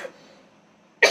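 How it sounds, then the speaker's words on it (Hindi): A single sharp cough bursts out close and loud at the end, after a quiet pause with faint trailing sound at the start, with no speech. "खांसी आ"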